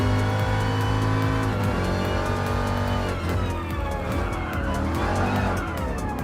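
Race car engines roar steadily in Gran Turismo Sport, a loud sustained engine drone whose pitch dips as the car slows and then climbs back toward top speed, with no one talking.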